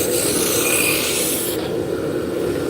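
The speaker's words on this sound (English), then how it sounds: "So we're using a roughing gouge just to get close." A roughing gouge cutting wood on a lathe gives a loud, continuous rasping, rubbing drone, close and steady, with the bright scraping edge dropping off partway through.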